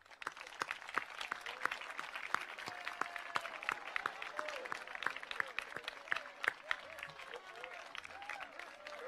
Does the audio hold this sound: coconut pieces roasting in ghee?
no